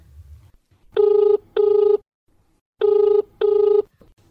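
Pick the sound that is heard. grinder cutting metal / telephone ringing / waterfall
telephone ringing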